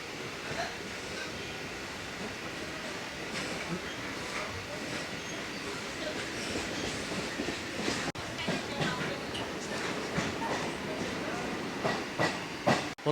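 A Sealdah to Dankuni local train runs along the line, a steady rolling rumble with hiss and faint wheel clatter heard from onboard, fairly quiet and continuous, with no talk.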